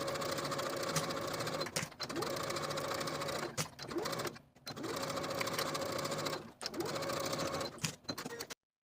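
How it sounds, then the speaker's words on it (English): A sewing machine stitches the center front seam of a blouse bodice, a steady, close mechanical whir that runs in several bursts separated by short pauses, with the stitching speed holding even throughout. "I'll sew the center front seam from the notch backstitching to secure to the bottom of the bodice"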